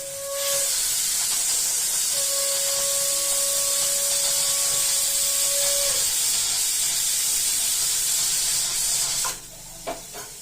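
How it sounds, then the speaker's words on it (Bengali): A pressure cooker with lentils boiling inside hisses loudly and steadily nearby, a high whistling tone riding on the hiss for a few seconds before it cuts off near the end. "ওখানে ডাল সিদ্ধ বসিয়েছিলাম প্রেশারে"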